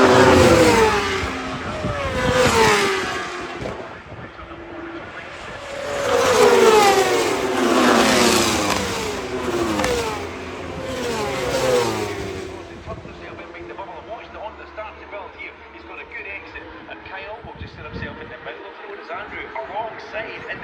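A Honda superbike races at Cadwell Park during a British Superbike race, its engine rising and falling in repeated passing surges, with race commentary running over the noise.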